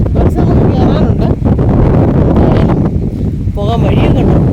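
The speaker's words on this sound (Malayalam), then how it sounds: "ഭയങ്കര കാറ്റാ കേട്ടോ, ഭയങ്കര കാറ്റ്, നല്ല രസം" Strong wind buffets the microphone outdoors in a loud, continuous roar, while a person talks over it.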